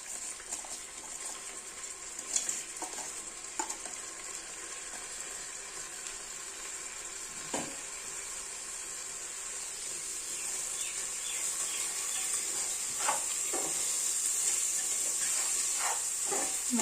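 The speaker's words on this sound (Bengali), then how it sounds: "এবার দিয়ে দেবো এতে ধুয়ে রাখা গোবিন্দভোগ চাল" Washed Gobindobhog rice tipped into a hot pot for khichuri and stirred, giving a steady sizzling hiss with soft scraping clicks and a few sharp knocks, growing slightly louder toward the end.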